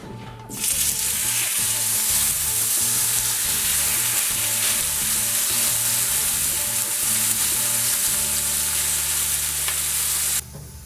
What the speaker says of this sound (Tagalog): So we're gonna brown our steak for at least 1 minute or 1 minute and a half.